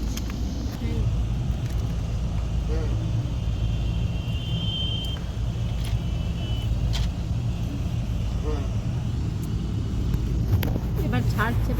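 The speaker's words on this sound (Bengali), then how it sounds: "এবার ছাড়ছে বাসটা।" A bus pulling away from Asansol on a trip toward Puri, its engine a steady low rumble close by throughout, with faint road and traffic noise and people talking inside the bus.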